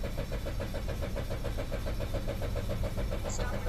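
A Mazda CX-5 with a 2.2 twin-turbo diesel engine and a hard-starting fault cranks without catching, the starter turning over in a fast, even chugging rhythm that runs unbroken and close up.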